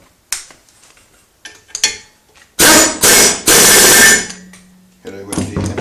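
An impact wrench tightens bolts on a BMW E31 840Ci during an electric conversion, firing three loud, close rattling bursts in quick succession after a few lighter clicks and knocks of handling.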